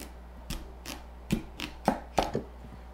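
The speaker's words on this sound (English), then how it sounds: "it might even be necessary to cut by inserting the tip of the knife into the squash." Knife cutting into a hard winter squash, five or six sharp separate thunks and cracks spaced irregularly, close and fairly loud over a quiet kitchen hum, with no talking.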